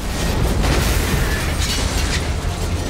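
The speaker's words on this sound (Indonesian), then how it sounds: "ledakan bom tersebut" A loud, sustained roaring blast rumbles continuously, a bomb explosion with dense crackling debris and no voices.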